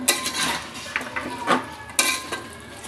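Peas, double beans and kohlrabi being stir-fried in a pan, a few close scrapes and clinks of a spoon against metal over a soft sizzle, with no voices.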